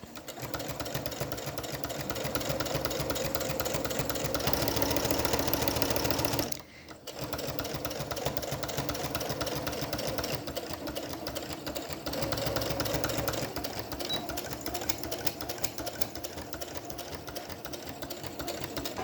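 A sewing machine fitted with a walking foot stitches a seam on a washable fabric face mask, a steady close mechanical hum with a brief pause midway before the stitching resumes.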